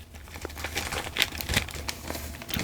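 White metal model kit parts for AJ Foyt's Indy 500 winner being unwrapped from tape and packaging, giving close, steady crinkling and crackling with small tearing bursts throughout.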